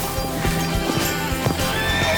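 A horse ridden in the Australian outback moves out at a steady pace, with close, continuous hoofbeats mixed with loud whinnying.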